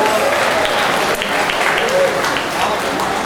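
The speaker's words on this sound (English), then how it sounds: "Let's give another round of applause." Sustained audience applause for an honorary Duck Master ceremony, a dense, steady wash of clapping at full level throughout with some crowd noise mixed in.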